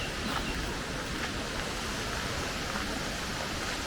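Continuous roar of a waterfall at Plitvice Lakes National Park, a loud, steady rushing of falling water heard up close, filling the whole moment without pause.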